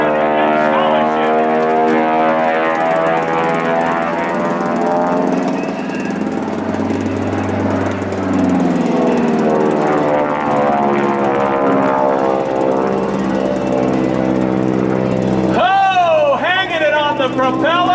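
A T6 airplane flown by Bud Brantley hovers on its propeller at the 2011 Arlington Fly-In, a loud, wavering engine and propeller drone with shifting pitch, heard under an announcer talking throughout.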